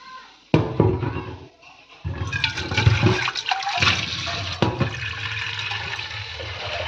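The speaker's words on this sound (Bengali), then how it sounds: "এবার আমি জল দিয়ে দেবো।" Water poured into a cooking curry of papaya and potato, a sudden gushing splash that continues as a steady running pour close by, with no talk.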